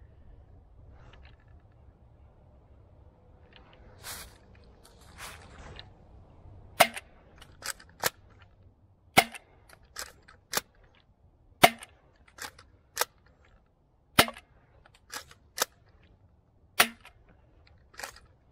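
A DZP Mk 2 toy foam dart blaster firing AccuStrike cutdown darts: a dozen sharp, close snapping shots at an irregular pace, each followed by a faint clatter, in an otherwise quiet room.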